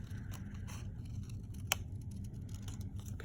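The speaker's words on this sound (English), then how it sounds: "I'm using the inside of the scissors to have a little more control over the cut" Repeated crisp snips and scraping cuts of scissors through paper while cutting a stencil, close up, with a low background hum.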